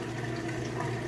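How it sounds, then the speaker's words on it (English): A Kenmore washing machine fills back up with clean water for its rinse cycle, giving a steady, even rush of running water with no pauses. "it switches over to a spin on the rinse cycle, and it'll fill back up with clean water"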